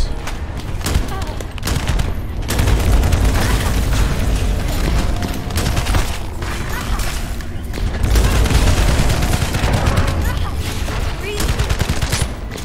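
Sustained heavy gunfire with booming impacts in The First Descendant, a dense, loud barrage running the whole length, with a player's voice talking over it at times.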